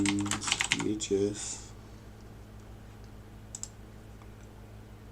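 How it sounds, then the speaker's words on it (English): Quick bursts of typing on a computer keyboard, close clicking keystrokes in the opening second and a half, then near silence with a couple of faint clicks, and a brief spoken word. "We'll type in Flintstones"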